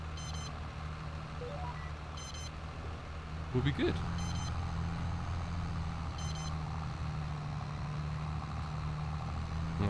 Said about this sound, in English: Beeps have stopped, which means everything is working there.